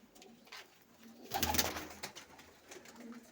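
Pigeons in a coop coo softly and steadily, with a louder burst of rustling activity in the middle of the short stretch.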